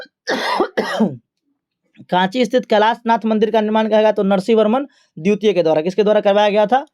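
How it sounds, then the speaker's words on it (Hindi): A man coughs twice in quick, harsh bursts, worn out from talking nonstop, then carries on speaking steadily in a close, clear voice. "देखिए कंटिन्यू बोलने से ना खांसी आने लगता है"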